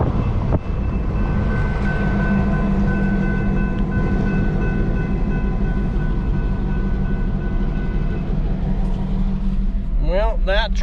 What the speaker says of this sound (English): at least that wasn't a long train